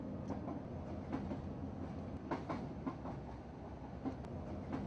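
A train rolling over a 25 mph railway crossover near the St. Catharines sidings, with steady wheel rumble and a run of rhythmic clicks and clanks as the wheels cross the points, close and continuous.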